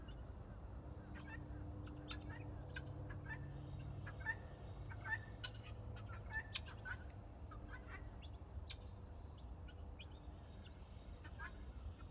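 A male guinea fowl in a backyard poultry flock calls with short, sharp chirping cries repeated at irregular intervals, moderately distant over a steady low background rumble.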